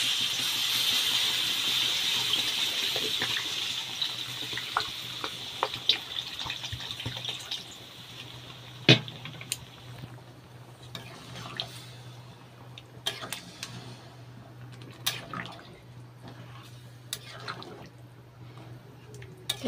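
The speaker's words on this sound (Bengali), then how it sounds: "এবারটা জল দিয়ে দেবো।" Water poured from a tap into a pot of cooking dalia khichuri, a hissing gush at first that thins into scattered drips and small clinks, close up with no talking.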